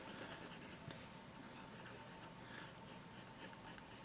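An Opus 88 Omar eyedropper fountain pen scratches steadily across paper, a soft, faint, continuous rasp of nib on page with no pauses or voices.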